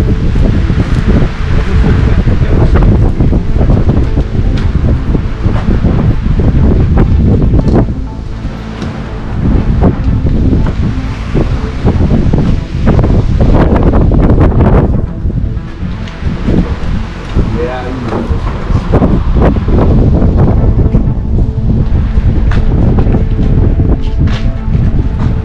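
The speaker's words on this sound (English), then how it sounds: "Really windy up here." Strong wind roars across a hilltop outside an old mine house, buffeting the microphone in loud continuous gusts with a brief lull partway through.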